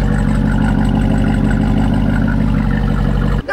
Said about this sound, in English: you can hear that nice sounding V8